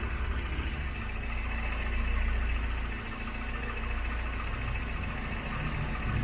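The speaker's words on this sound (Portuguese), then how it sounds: "Tá escutando o barulho do motor?" A VW Gol engine idles steadily with a low, even rumble and faint mechanical vibration, close and continuous with no talk over it.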